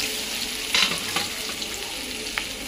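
Mustard seeds and cumin sizzling in a ladle of hot oil, a steady close crackling hiss with a couple of brief pops, no voices.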